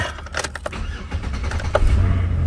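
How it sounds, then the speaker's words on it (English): A 2008 Chevrolet police interceptor with a new battery cranks and fires up. There is a brief starter whir with clicks, then a deep engine rumble that swells and holds close by. No one talks. "Cranks right up and runs like a jewel."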